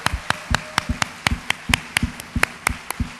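A church congregation claps in steady unison, about fourteen crisp, evenly spaced claps in quick rhythm, close and clear with no talking.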